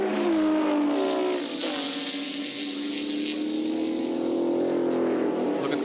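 Group A touring cars racing at Calder Park in 1985, a loud engine note braking into a corner with a pitch that drops then steadies, several cars close together.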